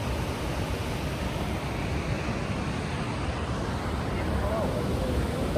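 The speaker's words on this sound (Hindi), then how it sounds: "पानी का भाव इतना ज़्यादा तेज़ हो चुका है कि आप आवाज़ सुनो।" Fast-flowing water rushes over a waterfall in Gwalior, making a dense, continuous roar that stays loud and steady throughout with no pauses.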